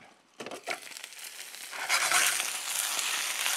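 Omelette with tomato frying in a pan, a few soft clatters at first, then a broad, steady sizzle that swells and holds at moderate loudness.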